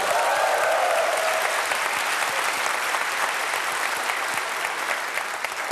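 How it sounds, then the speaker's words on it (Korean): Steady, full applause from a studio audience at a Korean comedy sketch set in a classroom, a thick even wash of clapping lasting several seconds and fading slightly at the end. "4번 박수 한번 쳐줘라"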